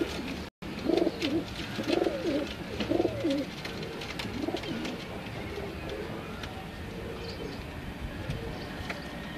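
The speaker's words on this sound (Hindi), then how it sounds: "ये कमगर ब्रीड है जी, कमगर कबूतर।" Kamagar breed pigeons coo in a few soft, rounded bursts during the first few seconds, then settle into a steady outdoor murmur of background noise.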